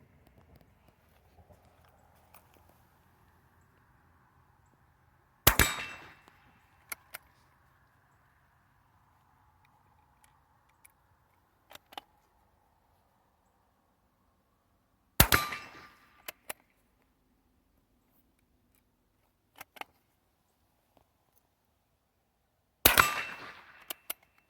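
A Marlin Model 15 .22LR bolt-action carbine fires three sharp, isolated shots spaced several seconds apart outdoors, each a crisp crack with a brief tail, with small clicks of the action between shots and quiet background otherwise.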